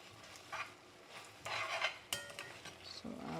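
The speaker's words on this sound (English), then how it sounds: "about now I will just throw in my bok choy" Bok choy goes into a stir fry pan with green beans and red bell pepper, with soft clinks of a utensil against the pan and light scraping and stirring, quiet and close, with a faint sizzle beneath.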